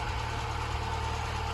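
An Austin Allegro engine idling cold with the choke slightly open, running at a fast idle as a steady, even mechanical hum with a low throb, close and constant with no talking over it.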